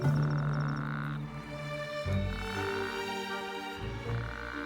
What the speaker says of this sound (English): The bigger the croak, the better his chances will be.